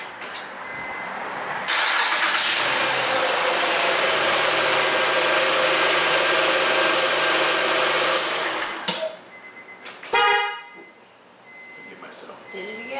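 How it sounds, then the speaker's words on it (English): A Honda Ridgeline engine, freshly fitted with a new cylinder head, cranks and catches into a loud, smooth run for several seconds, then cuts out. It is restarted with a short burst, and a voice talks over the quieter end. "So let's see if we can hear it crank over."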